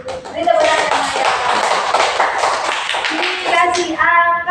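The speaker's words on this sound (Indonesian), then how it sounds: "Ini tepuk tangan ya" Classroom clapping from a group of children, a dense patter of hand claps running steadily for several seconds, with young voices talking and calling out over it near the end.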